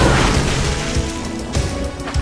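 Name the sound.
submarine torpedo firing and exploding in video game Red Alert 2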